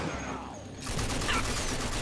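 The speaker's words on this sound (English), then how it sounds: "Machine guns they got." Machine gun fire in the video game Rage roars as a dense, continuous burst of rapid shots that cuts in about a second into the clip and stays loud to the end.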